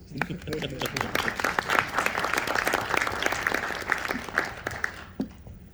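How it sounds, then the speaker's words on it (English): An audience at a business panel event applauds for several seconds, dense clapping swelling and then tapering off near the end, fairly close in a room. "Maybe you can just clap a bit."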